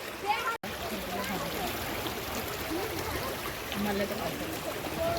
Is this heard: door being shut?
no